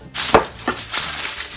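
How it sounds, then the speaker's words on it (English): Aluminum foil crimped by hand over a baking dish of scalloped potatoes with ham, heard as a few close crinkling crackles in quick succession. "I want to cover this with aluminum foil, turn side down"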